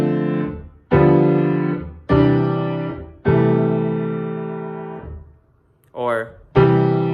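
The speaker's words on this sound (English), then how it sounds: "So a chord progression could sound like this" Several sustained harmonic chords on a pitched instrument, each struck and left to ring and decay, change in sequence with short gaps between them and one brief gliding tone near the end; no talking.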